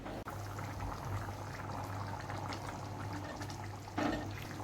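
Cowpea curry in a pot simmers on the stove, a soft continuous bubbling with a low steady hum beneath and a brief louder burble near the end, no voices.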